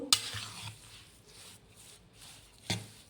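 Sukhdi ingredients being stirred and mixed together in a pan, with a sharp scrape or clink at the start and again near the end, and soft, low stirring rustle in between.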